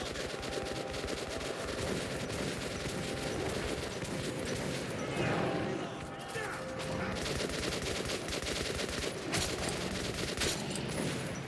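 Machine gun fire in the shooter Metro 2033 Redux, rapid bursts of gunfire rattling steadily through the whole stretch amid busy game noise, with a faint voice briefly audible.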